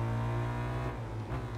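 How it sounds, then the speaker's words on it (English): Yamaha race motorcycle from the Tourist Trophy video game, its exhaust rattling as the engine holds a steady, loud, dense drone throughout, with no talking. "Yes, the rattle of the exhaust."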